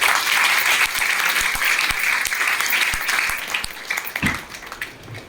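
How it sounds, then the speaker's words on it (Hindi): A large crowd at a welcome event in Nallasopara breaks into loud, dense applause for a speaker, sustained throughout with individual sharp claps standing out before it thins slightly near the end. "सबसे पहले तो सर के लिए जोरदार ताली होना चाहिए।"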